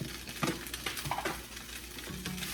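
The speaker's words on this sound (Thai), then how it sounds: "โอเคผมจะผัดลูกแล้ว" Fried rice being stir-fried in a hot pan, with a steady sizzle broken by repeated scraping and tossing strokes, close and fairly loud with no talking.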